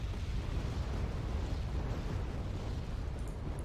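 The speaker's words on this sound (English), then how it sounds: "There comes the Buratino strike." Buratino thermobaric rocket strike in Wargame: Red Dragon, a continuous dense rumble of overlapping explosions that stays loud and steady without letup, with no talk over it.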